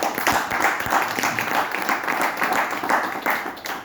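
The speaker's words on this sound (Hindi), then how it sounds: "आप लोगों के नाम जोरदार ताली होनी चाहिए।" An audience at a network marketing motivational talk breaks into applause, a dense continuous patter of many hands clapping for several seconds with no voice over it.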